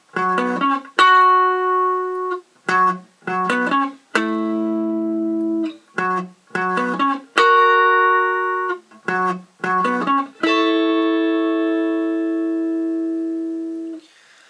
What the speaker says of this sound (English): What Red also does in that section is create some harmonies with chords to fill it out a bit.